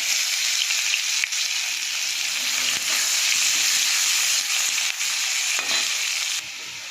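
Dried chillies and onion frying in a pan of hot oil just used for fish, a steady loud sizzle throughout with a few faint stirring scrapes and no talking.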